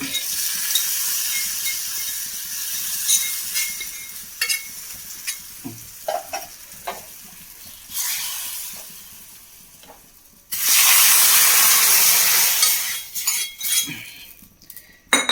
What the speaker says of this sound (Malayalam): നമ്മുടെ മുളകൊക്കെ നന്നായി മൂത്ത് വന്നിട്ടുണ്ട്. നമുക്കത് അടുപ്പൊന്ന് മാറ്റി കൊടുക്കാം. ഇത് കറിയിലേക്ക് ചേർത്ത് കൊടുക്കാം.